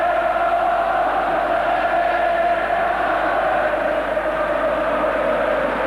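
Stadium crowd at a rugby league cup final in Hull greeting Queen Elizabeth the Queen Mother: a continuous, distant roar of massed voices, even and unbroken from start to finish.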